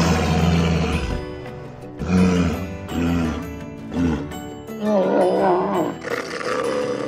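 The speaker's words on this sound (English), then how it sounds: "Walruses can make different sounds like whistle, bark, and roar." A walrus gives a series of loud, deep barking roars in separate bursts roughly a second apart, each with a growling, harmonic tone and clear gaps between calls.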